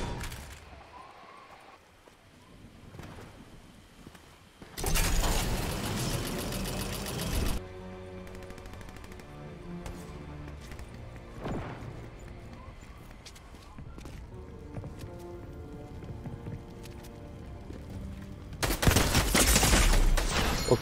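Shooting in the video game Fortnite: bursts of rapid gunfire, some distant and some loud and close, mixed with in-game music, footsteps and movement noises across a busy match.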